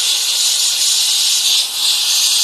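An airbrush sprays paint for highlights with a continuous, close, bright hiss of air that swells and dips slightly, with no voices over it.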